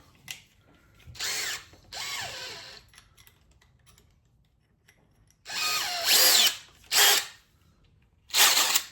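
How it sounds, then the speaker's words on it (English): An electric drill whirs in several short bursts, spinning up and stopping repeatedly, with quiet pauses between each run. "Let's use this drill."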